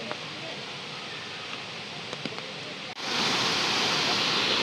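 Mae Kampong waterfall pours in a steady broadband rush, loud and close, with the roar swelling brighter and stronger about three seconds in as the view moves nearer the falls.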